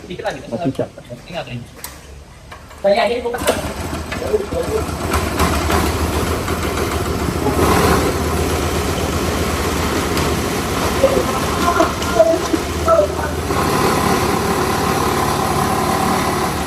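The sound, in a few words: air compressor engine running after carburetor replacement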